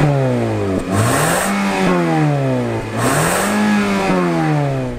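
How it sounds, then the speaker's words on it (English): A 2019 Nissan Altima sedan engine revs up twice in smooth rising surges, the pitch climbing and dropping back each time, loud and close. "In the Nissan, acceleration is timid."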